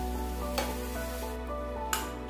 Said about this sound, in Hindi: लहसुन को खूब अच्छी तरह से ब्राउन कर लेंगे, लगातार चलाते हुए इसे भून लें।